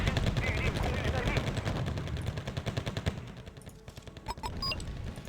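Gunfire in the military strategy game Wargame Red Dragon, a dense stream of rapid shots rattling on throughout, heavy at first and thinning toward the end, with a few sharper cracks and metallic pings near the finish.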